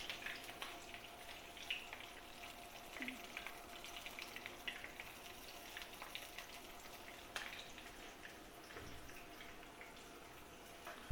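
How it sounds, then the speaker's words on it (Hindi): Masala-stuffed brinjals frying in a pan give a faint, steady, crackling sizzle with light spattering that runs unbroken throughout, with no talking. "अभी 2-3 मिनट एक दफ़ा फ्राई एक तरफ करेंगे, फिर दूसरी तरफ पलटेंगे"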